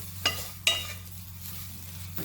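Soybean masala fries in a hot pan, a low steady sizzle with two sharp spatula scrapes and a third near the end as the mixture is pressed and stirred, close and without speech.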